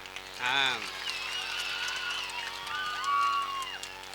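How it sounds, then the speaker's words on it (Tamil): A festival audience at Thiruvottiyur claps and cheers at a comedy stage show, a short swell of applause with whoops that carries on under the amplified voice of the host. "கைத்தட்டல் அவ்வளோதானா?"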